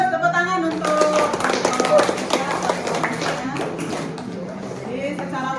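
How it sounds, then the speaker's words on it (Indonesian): Classroom applause for a student group after a presentation, a scattered burst of clapping and tapping with students' voices over it, fading toward the end. "Tepuk tangan untuk kelompok 3."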